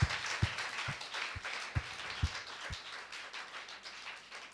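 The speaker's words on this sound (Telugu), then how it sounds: "గట్టిగా చప్పట్లు కొట్టి దేవుని స్తుతిద్దాం." A church congregation claps in praise during a Sunday service, with a run of evenly spaced sharp claps at the start that soften into a looser, quieter patter of applause.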